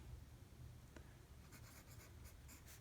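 Pen scratching across paper while jotting down an income figure for a simple household budget, a quiet run of short, bright strokes in the second half over a low background hum.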